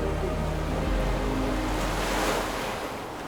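Ocean waves surge continuously at Diamond Beach in Indonesia, a loud, close roar of surf under steady wind noise buffeting the microphone, with no voices.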